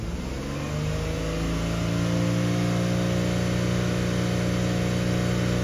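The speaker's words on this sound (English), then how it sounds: "So I'm gonna rev it up and see how it moves." Car engine revved up at idle during a mass airflow sensor test, a steady close droning hum whose pitch climbs gradually and holds at higher revs, with no voices over it.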